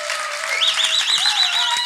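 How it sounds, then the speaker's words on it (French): A live audience applauds a woman, a dense steady wash of clapping over about two seconds with a sustained musical tone running beneath it. "Je pensais qu'on allait applaudir pour madame."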